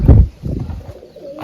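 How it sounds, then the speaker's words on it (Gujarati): Wild pigeons coo in low, soft bursts close by, a strong call at the start followed by fainter repeated coos, with no talking. "મિત્રો જંગલી કબૂતર કેટલા બધા આવી ગયા છે"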